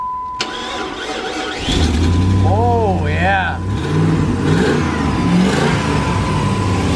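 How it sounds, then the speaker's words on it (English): An old Jeep engine with a small exhaust leak cranks and catches, then revs and settles into a rough idle, close and loud, with a short spoken remark over it. "She's a little exhaust leak"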